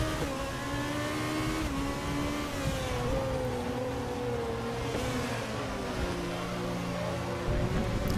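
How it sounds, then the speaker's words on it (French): A high-pitched single-seater race car engine in the racing game RaceRoom, at Paul Ricard, whines steadily, its pitch sliding up and down through gear changes, loud and continuous with no talking. "c'est plaisant de retrouver des monoplaces avec des vrais bruits de moteur"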